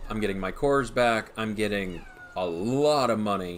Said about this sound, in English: if you guys hear meowing in the background, that's a kitten I found during that war.